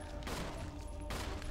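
Gunfire aimed at a zombie in the video game Resident Evil REmake, two loud bursts about a second apart over a steady dense game soundscape.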